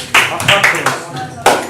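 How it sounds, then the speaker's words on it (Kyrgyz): A classroom group of students claps together in a short, close burst of applause that thins out, then rises again with a final sharp round near the end, with faint voices mixed in. "Кана бардыгыбыз өзүбүзгө бир кол чаап коелу"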